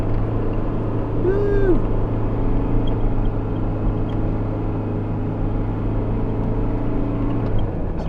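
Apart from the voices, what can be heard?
Land Rover engine driving up sand dune hill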